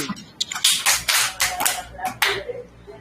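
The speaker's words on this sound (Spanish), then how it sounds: "un aplauso para la hermana" Several people clap together in a burst of applause lasting a few seconds during a church praise class, fairly close, with a voice or two briefly mixed in.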